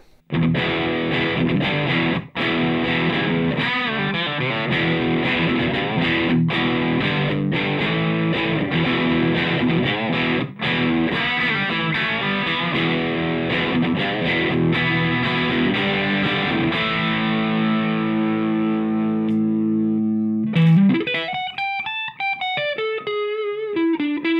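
Gritty, overdriven electric guitar chords through a Rothwell Heartbreaker overdrive pedal on the bridge pickup ring out loud and sustained, with strummed accents, then a final bending, wavering note near the end.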